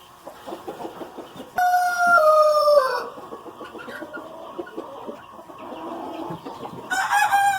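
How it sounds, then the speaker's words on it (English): Rhode Island Red and White Rock hens in a homestead pen, with loud close clucking and a long drawn-out call that rises and falls. Softer clucks and scratching noises fill the pauses. "I've got that Rhode Island Red with some White Rock hens."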